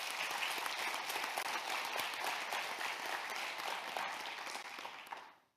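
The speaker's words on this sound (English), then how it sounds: "but let's give her a round of applause" Audience applause at a regional educators awards and scholarship ceremony, a steady dense wash of clapping from a crowd that holds level for about five seconds before fading out quickly at the end.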